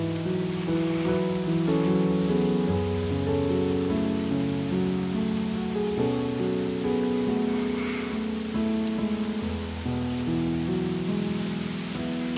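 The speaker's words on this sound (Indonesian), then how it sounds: "Hujan lagi, hujannya turun lagi." Rain falling outdoors, a continuous, moderately loud hiss and patter with a low rumble beneath, steady for the whole stretch with no talking.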